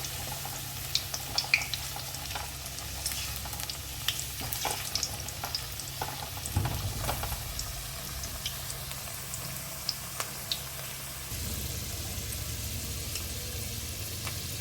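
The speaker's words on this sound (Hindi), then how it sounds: "हल्की आंच में फ्राई करेंगे ताकि आराम से" Potatoes frying on low heat in oil for Kolkata-style chicken biryani, giving a steady soft sizzle with scattered crackles and occasional stirring scrapes, close by, with no talking.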